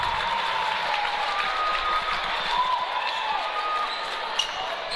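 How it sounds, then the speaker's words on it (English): Hill City Ranger crowd in a high school basketball gym applauding a player leaving the game, a steady wash of clapping and cheers lasting the whole stretch, with squeaks and bounces mixed in. "get a nice ovation from the Hill City Ranger crowd here"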